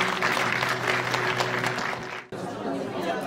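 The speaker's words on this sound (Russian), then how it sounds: "я думаю, что все аплодисментами поддержат" Audience applause after a film premiere, a dense patter of clapping over murmuring voices that cuts off abruptly partway, then resumes as softer crowd noise.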